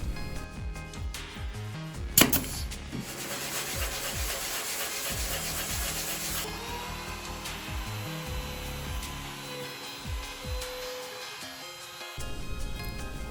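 Sanding on a wooden Paulk-style assembly table, with steady abrasive rubbing and a whirring power sander running continuously close by, the pitch and intensity shifting as the work moves.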